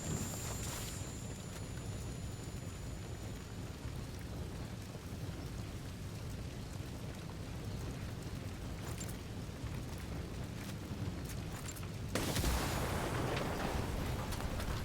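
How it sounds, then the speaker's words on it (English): Gunfire in a tactical shooter, Tom Clancy's Wildlands, rolls as a steady, dense rumble of distant shots, then a sudden louder blast of an explosion near the end. "Opening fire. That thing's gonna explode."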